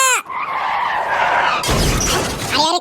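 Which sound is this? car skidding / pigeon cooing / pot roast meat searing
car skidding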